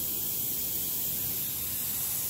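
A vintage collectible airbrush sprays continuously with a steady, even, close hiss and no talking over it.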